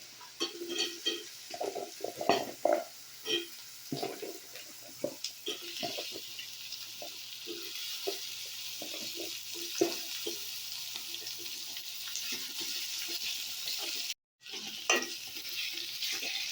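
Drumsticks frying in oil with ginger garlic paste for a drumstick prawn curry, a continuous close sizzle broken by repeated stirring scrapes and knocks, with a brief dropout near the end and no talking.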